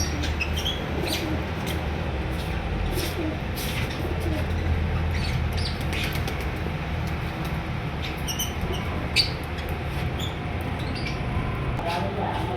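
A parblue pastelino lovebird breeder pair gives scattered, short, high chirps over a steady, noisy room background, with faint voices at times.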